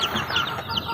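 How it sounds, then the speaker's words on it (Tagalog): Newly hatched chicks peep in thin, rising chirps close by, several overlapping calls packed into about a second. "Yan guys yung bago kong pisa na sisiw."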